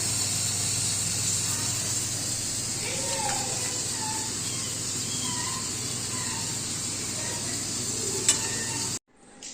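Onions fry in oil in a kadhai, a steady close hiss and sizzle with a low hum beneath, cutting off abruptly near the end.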